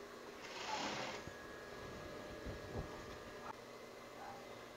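A sewing machine stitching an invisible zipper whirs in a short close burst, then settles into a softer low mechanical hum.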